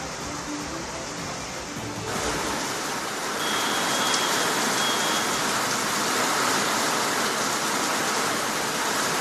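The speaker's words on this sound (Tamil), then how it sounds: "திண்டுக்கல் மாநகர பகுதிகளில் அரை மணி நேரமாக கனமழை." Heavy rain pouring steadily over Dindigul city, a dense continuous hiss that swells a little louder after the first few seconds, with no voices.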